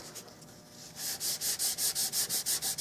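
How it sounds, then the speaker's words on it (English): Super glue filler being sanded on a Winchester Model 100 rifle during restoration, starting as soft rubbing and then becoming a close, steady run of about ten rhythmic back-and-forth sanding strokes. "I'm going to sand that."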